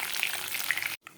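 Chicken pakoras crackle in hot oil in a home kitchen, a close, bright sizzle with scattered pops. It stops abruptly, and a faint clatter follows.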